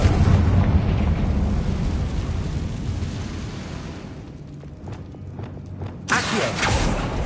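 Confringo fire spell explosion in the video game Hogwarts Legacy, a loud sustained rumbling blast that fades, followed by a few crackling pops and a fresh burst at the end.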